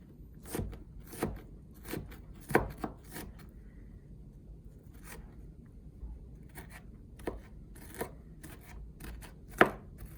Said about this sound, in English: just cut through the rest of this onion with a nice chop